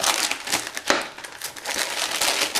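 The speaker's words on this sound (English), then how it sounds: "First, what you're gonna wanna do is cut the label off. Today I'm using my Ontario Rat folder." An Ontario Rat folding knife cuts the label off a plastic bottle for a wilderness fish trap, producing close, continuous crinkling and crackling of thin plastic with no speech.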